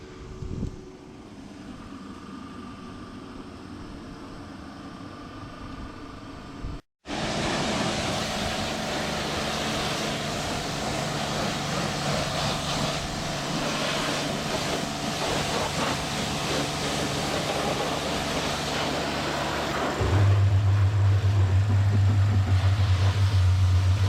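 Water spraying over a 1959 Fordson Power Major tractor being washed for the Angus Show in Scotland: a steady, loud hiss of spray over a low motor drone that starts after a brief pause and continues without talk.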